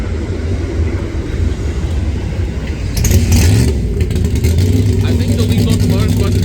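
A long intermodal freight train rumbles past near South Mountain Raceway in Boiling Springs, a steady low roar of rolling cars with louder rattling and clanking joining partway through, no voices.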